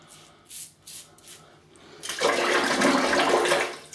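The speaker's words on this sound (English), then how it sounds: "it has to be rinsed probably more than you would a normal razor" Water splashes and rushes over a closed-cap safety razor being rinsed under a tap, preceded by a few soft swishes, then a strong steady gush that continues to the end.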